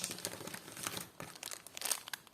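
A plastic packet crinkles and rustles up close during a parcel unboxing of vintage clip-on earrings, a continuous irregular crackling with sharper bursts, no voices.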